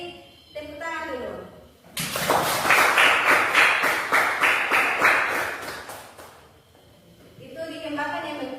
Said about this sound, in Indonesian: Dari kiri, tepuk tangan dulu.